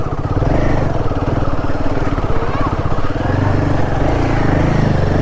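A Royal Enfield Himalayan 450 motorcycle engine runs loud and close throughout while being ridden off-road on a mountain trail, a steady continuous drone with no break.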